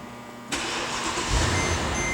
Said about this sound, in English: we're going to turn the engine on so you can hear it